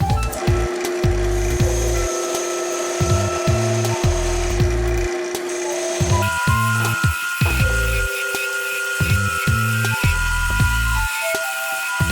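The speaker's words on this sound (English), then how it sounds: "Now I'll shape the head. Going to get a smaller spindle gouge." Spindle gouge shaping a wooden honey dipper on a lathe, a close, loud scraping rasp of the cut coming in repeated pulses over the motor's steady whine and hum.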